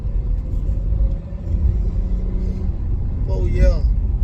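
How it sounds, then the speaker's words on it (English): A car rolls along after an axle and brake job while the brakes are tested. A steady, low, close road rumble runs throughout, and a person talks over it near the end. "Testing the brakes out, making sure they stop good."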